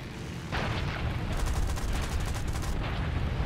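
Aircraft guns firing in the War Thunder combat game, a dense, loud rattling burst that runs for several seconds over a constant roar of engine and wind noise.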